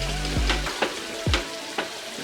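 Ground masala frying in oil for an aloo masala curry, with a few sharp sizzling bursts and stirring scrapes over a low steady hiss, close and moderately loud.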